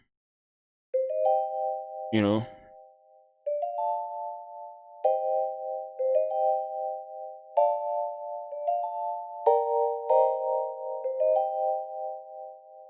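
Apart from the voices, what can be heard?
bell synth preset played with mallets in FL Studio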